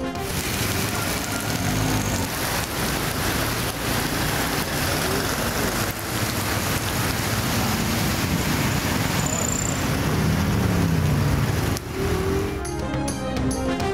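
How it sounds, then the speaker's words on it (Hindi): Heavy monsoon rain pours down steadily during a downpour in Pakistan, a dense, unbroken wash of noise lasting the whole stretch with no voices, a few faint rumbles and passing sounds mixed in. "पेशावर समेत मुल्क के मुख्तलिफ शहरों में मूसलाधार बारिश।"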